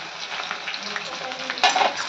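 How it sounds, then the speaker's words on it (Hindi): Chopped onion and green chillies fry in a pan, a steady close sizzle with soft stirring scrapes, a louder burst of hissing near the end. "अब इसको थोड़ा सा भूनूंगी"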